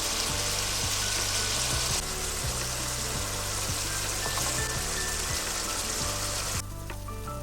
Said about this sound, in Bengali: এখন আমি ভাজা মাছগুলো দিয়ে দিলাম।